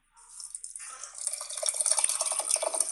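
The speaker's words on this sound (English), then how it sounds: "And so then we just pour in the pineapple" Pineapple juice, labeled 100% pineapple, poured into a cup, a steady splashing liquid stream that starts abruptly and grows gradually fuller and louder as the cup fills, close and alone.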